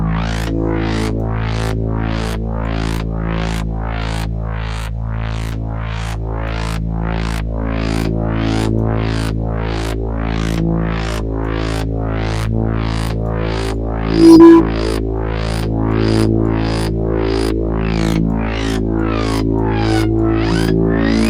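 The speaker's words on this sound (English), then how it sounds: "You can add in flanges to start creating all these crazy sounds." A dark atmospheric synth texture made in Ableton runs under a flanger effect, giving a steady drone crossed by a fast, regular series of sweeping whooshes, with one brief brighter blip partway through.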